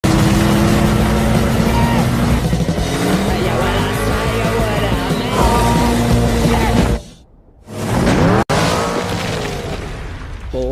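An old car driven fast by an inexperienced driver in a film, a loud revving engine roaring and shifting pitch, cut by a brief dropout before the engine surges back.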